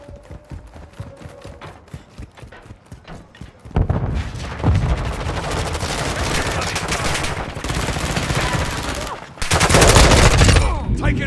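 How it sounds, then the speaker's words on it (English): Sustained automatic gunfire and bursts from Call of Duty Modern Warfare 2 multiplayer, loud and continuous with heavy booming shots, starting sparse then building into dense fire with a brief lull before a final intense volley. "Taking effective fire!"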